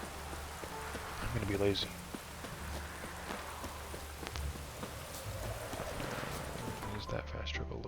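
Rain falls steadily in The Witcher 3 as a continuous wash of patter, with hooves clip-clopping and someone speaking briefly over it.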